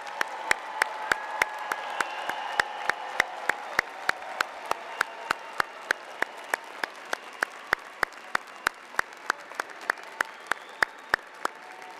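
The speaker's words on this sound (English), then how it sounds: "would like to salute you with a round of applause" Sustained applause from the crowd at a university College of Education spring commencement ceremony, a dense continuous wash of clapping with a few sharper nearby claps standing out steadily over twelve seconds.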